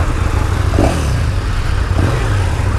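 A 2017 KTM Super Duke 1290R motorcycle with titanium valves, its engine running close and loud at a steady, throbbing idle with two brief blips of revving.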